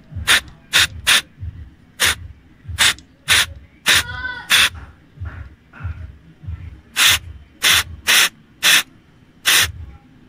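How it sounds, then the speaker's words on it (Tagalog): Contact cleaner sprays onto the throttle position sensor of an automatic Suzuki Every Wagon in short, sharp hissing bursts, about a dozen quick spurts in an uneven rhythm, close and loud, with no speech. "kailangan natin isprayan ng ating contact cleaner"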